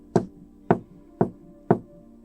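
Four evenly spaced knocks land on a door, firm and close, each with a short resonant thud and a quiet pause between them.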